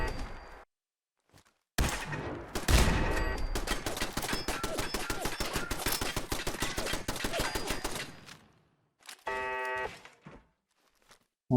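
A Fallout 4 turret opens fire in a long, rapid automatic burst of loud, close shots lasting several seconds. A short electronic burst follows after a pause.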